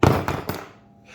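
An air rifle with a Z-Ram steel air chamber dry-fires, giving a sharp close thunk followed by a couple of quicker mechanical knocks that fade into quiet.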